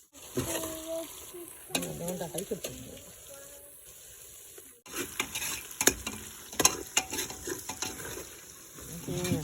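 Chicken rice ingredients are sautéed in a pan, giving a steady sizzle with scraping and stirring clatter and a brief pause midway. Someone talks over the cooking.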